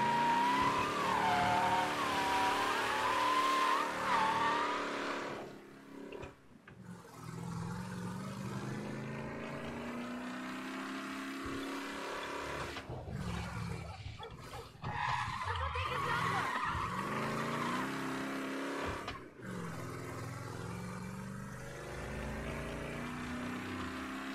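A car driving through city streets in Mafia Definitive Edition, engine droning and shifting pitch with squealing tire skids, steady and close for the whole stretch, with a few brief dips and no talk over it.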